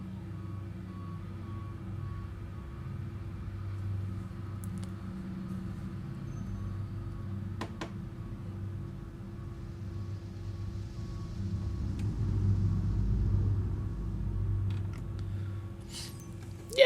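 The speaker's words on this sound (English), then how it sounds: "There seems to be some truck reversing outside, so if you can hear a beep, beep, beep" A truck reverses outside with a regular beep, beep, beep from its warning alarm, faint and distant under a low engine rumble and a steady background hum.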